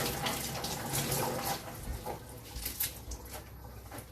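Tap water runs steadily into a sink as fresh coriander is rinsed, a close hiss with small splashes and patter rising and falling as the leaves move under the stream.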